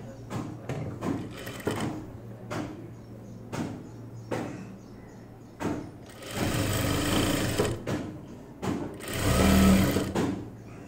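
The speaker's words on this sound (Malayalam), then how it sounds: "അപ്പോൾ ഇതുപോലെ വെച്ചിട്ട് അങ്ങോട്ട് സ്റ്റിച്ച് ചെയ്യാം." A sewing machine runs in bursts while stitching a churidar top, with short start-stop runs giving way to longer steady whirring passages, close and fairly loud.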